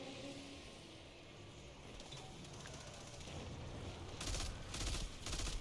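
Pulse rifle in a sci-fi shooter video game firing in rapid bursts of sharp reports, rising from faint background noise to louder clustered volleys near the end.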